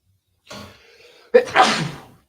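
A single close sneeze, preceded by a short intake of breath, loud and abrupt in a quiet room.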